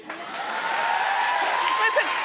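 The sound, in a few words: studio audience applause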